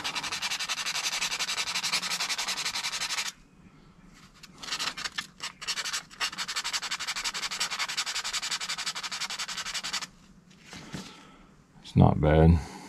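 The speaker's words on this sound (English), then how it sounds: "Grab the sandpaper, clean this up a bit." Sandpaper rubs briskly back and forth over a car part from a stuck right turn-signal repair, in long steady strokes that pause briefly and resume, ending with a short bit of speech.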